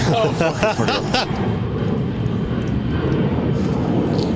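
An airplane passes overhead at an outdoor music festival, a steady broad roar holding through the whole stretch, with voices and chatter briefly over the start.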